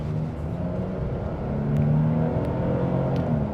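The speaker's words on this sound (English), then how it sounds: "About third throttle, good torque." A 2025 Nissan Frontier Pro-4X engine accelerates steadily at about one-third throttle, a loud continuous rising drone heard from inside the truck with no talking.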